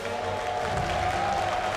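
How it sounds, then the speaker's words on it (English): Crowd applause and cheering from a large audience at the StarCraft 2 IEM Katowice 2016 semifinal, a steady dense roar filling the whole stretch, with a faint voice underneath. "give it up for Snute"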